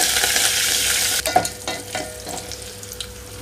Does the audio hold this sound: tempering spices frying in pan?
yes